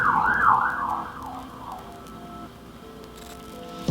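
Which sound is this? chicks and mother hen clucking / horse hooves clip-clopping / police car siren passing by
police car siren passing by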